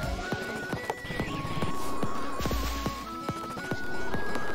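Horse mount in the Pizza Tower video game: rhythmic clip-clop hoofbeats and a whinny over game music, loud and close, with no talking.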